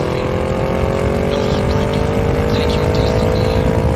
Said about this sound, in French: Le moteur V8 est parfaitement accompagné d'un système d'échappement sport qui délivre un son rauque et puissant